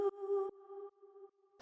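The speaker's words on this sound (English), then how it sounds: "So the next thing I have here is this little vocal stab" A short, EQ-processed vocal stab sample plays as clean tonal bursts: a sung note sounds twice, then a fainter held tone, with clipped attacks and a quick noisy hit at the end.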